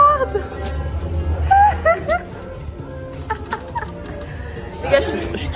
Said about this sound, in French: Il y a des poulets.